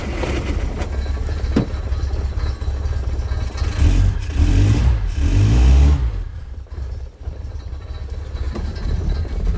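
A project car's engine runs loud and rough, revving and surging in the middle, then drops away as it stalls, leaving quieter noise at the end.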